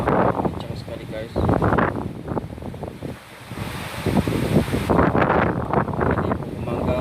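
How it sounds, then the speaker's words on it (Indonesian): Strong midnight wind gusting through Rentio in Sandakan, nearly uprooting a mango tree, roars steadily as loud broadband wind noise on the microphone, with someone talking over it nearly throughout. "angin sangat kencang sekali guys."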